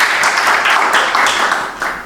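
A crowd claps together in a dense, steady wash of applause that holds for about two seconds before thinning slightly at the end.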